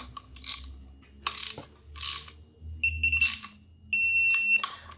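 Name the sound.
torque wrench ratcheting while tightening engine valve cover bolts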